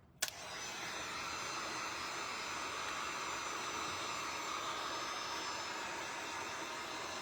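A heat tool drying 24K gold paint on a small wooden peep starts with a click and then runs as a steady, loud whooshing roar close by, with no talk.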